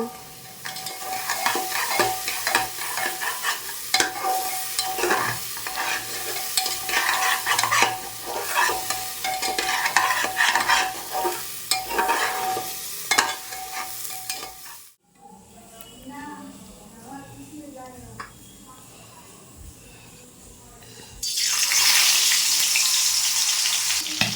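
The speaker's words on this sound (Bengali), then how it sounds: "এখানে মাছের মাথাটা ভাজতে দিয়ে দিয়েছি" A fish head frying in a pan, with a loud, close sizzle and stirring that fills the first part. It drops to a quieter background under talking, then a strong hiss returns at the end.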